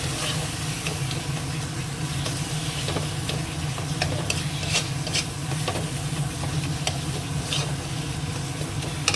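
A fried-down spice paste with a couple of spoons of sour yogurt is stir-fried in a pan for a poultry chicken curry, giving a steady close sizzle with spatula scrapes and light ticking, no voices.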